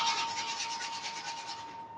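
A steady rasping scrape across the charred underside of a burnt cookie, continuous and close for about two seconds before easing off, with no voices.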